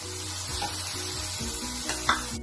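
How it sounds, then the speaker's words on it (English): Rice flour roasting on a low flame in a pan for aloo tikki, a steady gentle sizzle under a faint background hum, with a brief scrape of the stirring spoon near the end. "We will roast this rice flour for about 2 minutes and keep the flame low, and we'll continuously stir it."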